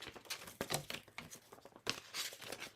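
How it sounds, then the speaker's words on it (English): Paper card trimmed by hand, a brief close sequence of crisp rustling and cutting crunches with small handling noises, soft overall and no speech. "I'm just going to cut that off"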